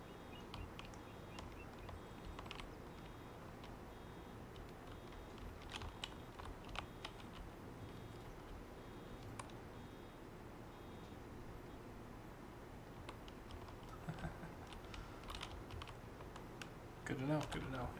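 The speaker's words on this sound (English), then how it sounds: "Old mechanical keyboard." Keys on an old mechanical keyboard clack in faint, irregular bursts of typing against a quiet room background, with a louder cluster of taps near the end.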